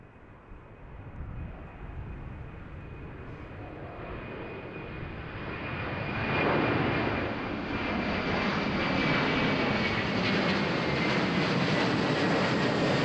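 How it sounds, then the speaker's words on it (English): KLM Airbus A330-200 jet airliner bound for Lagos at Amsterdam Schiphol, its engine roar swelling from moderate to loud and holding steady as it passes nearby, with no voices. "We got a KLM Airbus A330 200 going to Lagos."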